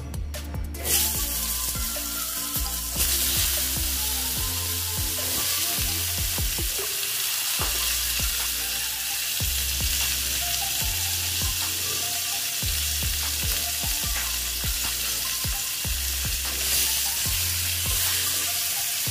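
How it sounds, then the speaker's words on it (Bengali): Pointed gourd (potol) pieces frying in hot oil with salt and turmeric, a steady close sizzle throughout with repeated stirring clinks and scrapes of a utensil in the pan. "পটলটা আমি ভেজে নেব"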